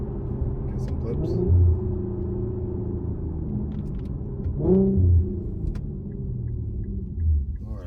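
An Infiniti Q50 with the VQ 3.7 V6 and Invidia Gemini exhaust rumbles at idle and revs in a few short bursts, a deep, loud, close engine note with background noise throughout.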